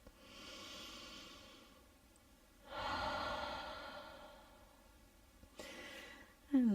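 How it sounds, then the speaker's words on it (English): Yoga practitioner breathing deeply during a morning flow, soft airy inhales and exhales close by with a longer fuller breath in the middle and a brief voiced sound at the end. "Pause here and take a breath."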